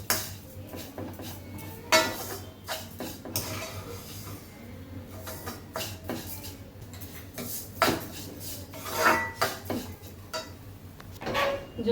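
Coconut and sugar being roasted in a pan for coconut laddoos, a spoon scraping and clinking against the metal in steady irregular strokes, close and moderately loud with no voices.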